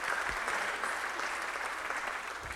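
Round of applause from a crowd at a presentation, dense continuous clapping at a steady level throughout, with no speech over it.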